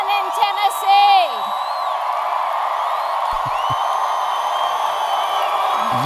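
A large crowd at a Tennessee political rally cheers and whoops steadily throughout, a broad sustained roar with a few louder shouts near the start.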